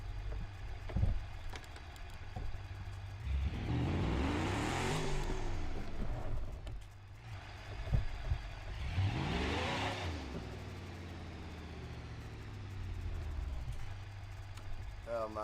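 A car engine in the driving game BeamNG revs hard in two long surges, rising and falling in pitch, loud and up close with steady background noise throughout.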